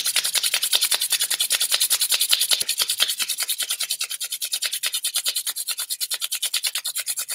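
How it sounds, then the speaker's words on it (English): Rapid, rhythmic rubbing of palms together, a steady close swishing with each back-and-forth stroke clearly pulsed, continuous and fairly loud with no talk. "bring the hands together in front of your face and rub the palms."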